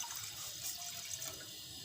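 Water poured into a pan to make sugar syrup for unab sharbat, a steady broad splashing pour held for about two seconds without speech.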